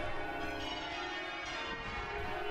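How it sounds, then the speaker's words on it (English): Dense ringing of church bells on Christmas Day, overlapping tones sustained throughout, heard at a moderate distance. "All the church bells are ringing."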